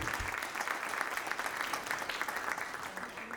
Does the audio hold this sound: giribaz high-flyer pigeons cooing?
no